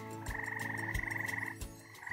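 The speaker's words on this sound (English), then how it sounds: "Frogs attract females by the whistles, by the noises" Several frogs croak close up in a rapid, continuous pulsing chorus of trilled calls, with a short break near the end before the calling resumes.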